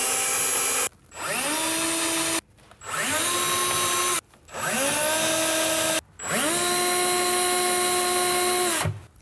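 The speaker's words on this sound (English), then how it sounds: "put your pilot holes in place for your screws on all of the red spots" A power drill bores screw pilot holes for a soft-close larder runner in four close, loud bursts of rising whine, each spinning up and then stopping with short pauses between.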